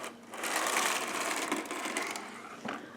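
The carriage of a Sister toy knitting machine is pushed slowly across the needle bed, making a continuous rough mechanical rasp close by, with a couple of clicks near the end.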